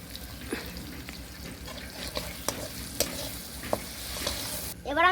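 Tomatoes frying in a pan while chicken kosha is cooked, giving a soft steady sizzle with scattered spoon-and-pan clicks and a brief louder scrape near the end.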